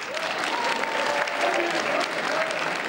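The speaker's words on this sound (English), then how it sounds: "Come on, let's have a clap then." Audience applause greeting a comedy show's host, a dense, steady wash of many hands clapping throughout, with faint voices mixed into the crowd.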